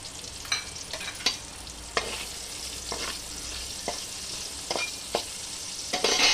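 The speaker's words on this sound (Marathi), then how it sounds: "त्याच पॅनमध्ये आपण हा कांदा घालून घेणार आहोत आणि थोडा परतून घेणार आहोत" Onion sautéing in the same pan used earlier for brinjal, a soft steady sizzle broken by regular spatula scrapes and stirring strokes, close and without talk.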